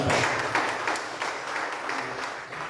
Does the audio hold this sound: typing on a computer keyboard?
no